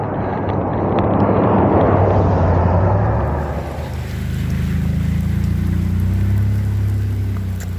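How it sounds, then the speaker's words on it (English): Heavy rain pouring down on a canoe trip along the Mattawa River, a dense broadband wash that swells loud in the first few seconds and then settles into a steady roar over a low motor-like rumble. "It's pouring rain."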